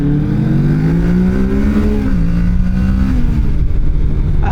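A Kawasaki Ninja 650 motorcycle accelerates hard with a close, loud engine note. The revs climb, dip at a gear change about halfway through, then pull steadily again.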